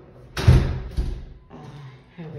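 An apartment door on a third-floor walk-up is opened with a solid thud, then a second softer knock a moment later, heard close up in a quiet indoor space.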